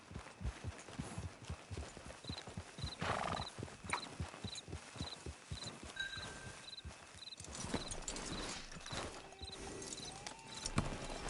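Horse hooves clip-clop in a steady trotting rhythm in a video game, with a whinny breaking through, moderately close and continuous with a few faint tonal game effects; little or no talk.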